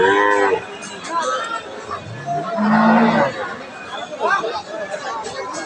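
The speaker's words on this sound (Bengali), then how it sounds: "এই যে এটা একটা দুধের গরু" A Friesian dairy cow lets out a low moo amid a bustling crowd of people talking at a livestock market.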